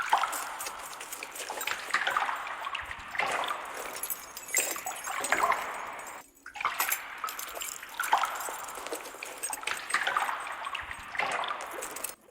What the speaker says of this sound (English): We got some water splashing and some like a keychain apparently.